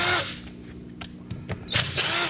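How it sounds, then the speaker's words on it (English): A handheld power drill with an 8mm socket spins fasteners out of a Predator 212 small engine during teardown, giving several short whirring bursts close by, with no talk. "Only use power tools to disassemble, never to reassemble."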